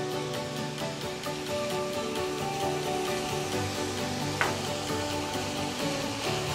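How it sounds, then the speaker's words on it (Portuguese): Onion and garlic sizzle steadily in a pan as they sauté, a continuous bright frying hiss with faint stirring scrapes and one brief clink midway. "Já deu uma refogada na cebola e no alho."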